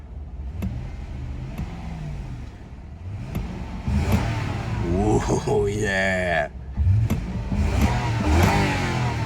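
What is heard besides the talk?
car engine revving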